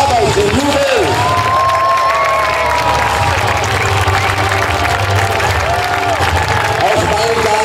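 An outdoor audience at a knights' festival in Laxenburg cheers and applauds the squires with loud, continuous clapping and shouts, while voices call out over the crowd.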